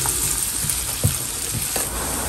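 Chopped garlic sizzling and frying in a hot pan over medium heat, a steady close crackling hiss with faint scraping clicks, no voices.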